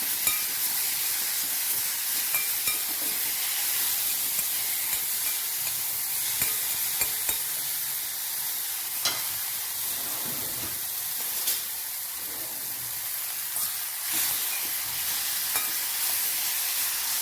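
Ground masala sautéing in a pan over low heat with curry leaves for a shepu, potato and sour chuka mixed bhaji, a steady close sizzle and hiss with soft stirring scrapes, no voices.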